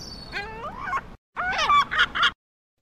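Seagull calls played as an ambience sound effect, several sharp descending squawks in two quick bursts separated by a brief silence, clear and close.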